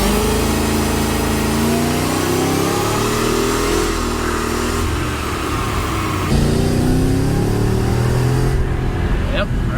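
A Whipple-supercharged Mercedes engine revs hard toward about 5,000 RPM, a loud sustained rising roar with a slight drop and surge midway, close and continuous for nearly ten seconds.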